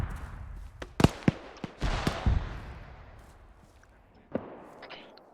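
Distant mortar rounds bursting in an ArmA 3 infantry battle, several sharp booms and thuds scattered across a few seconds with rumbling tails, faint radio-style voices underneath.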